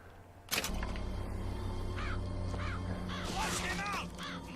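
Crows cawing and swooping during an attack in the video game Bioshock Infinite, several harsh caws repeating over a steady loud game soundscape, with a sharp burst at the start.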